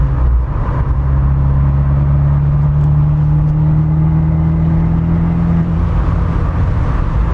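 An Abarth 124 Spider roadster pulls away on a road, its engine a loud, steady close-up drone with a sustained low hum and faint rising tone, with no talking over it.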